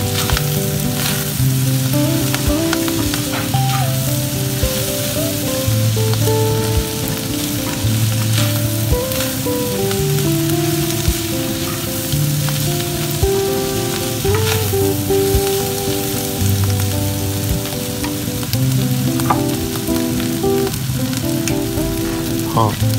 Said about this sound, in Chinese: 实际上我是一边炒一边煎的， 这样才能使虾皮变得焦香。